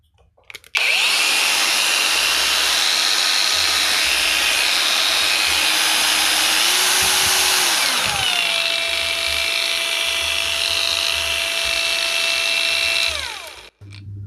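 A cordless brushless angle grinder spins up after a switch repair and runs at a steady high-pitched whine for about twelve seconds, with a brief pitch shift partway through before it cuts off; close, alone, no talk.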